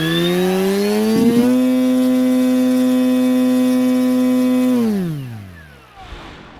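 Detrum Power10 3715 brushless motor and ESC on a test bench, held at full throttle as a loud steady whine with rich harmonics, then spooling down smoothly to silence near the end, with a brief click along the way.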